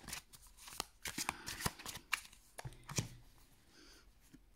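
Tarot cards being shuffled and cut by hand, a close, quiet run of crisp riffling snaps and soft slaps in an irregular rhythm, with no talk.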